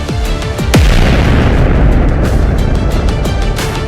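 A powered suit exploding with a loud, deep boom that sharply sets off a dense rumbling blast, which roars on steadily and nearby without any voices.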